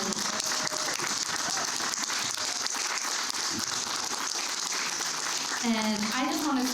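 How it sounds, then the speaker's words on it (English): Audience applause for panelists at a panel discussion, steady dense clapping through the room, with a voice speaking over it near the end. "I want a big round of applause for our panelists."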